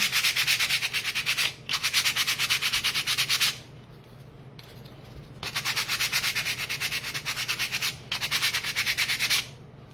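Rhythmic sandpaper scraping across wood up close, fast repeated strokes in several bursts with brief quiet gaps between them.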